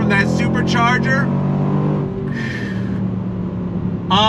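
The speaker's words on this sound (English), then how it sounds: "Now you're hearing the whine a little bit from that supercharger." A 2022 Range Rover Sport SVR Ultimate under throttle, its supercharger whining as a steady high tone above the engine's loud droning roar inside the cabin, with someone talking over it throughout.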